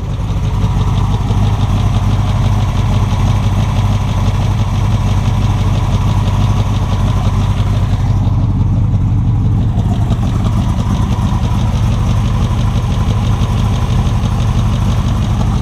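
A 1965 Chevrolet Corvette with a 327 V8 idles steadily and smoothly close by, a loud continuous low rumble with no talk over it.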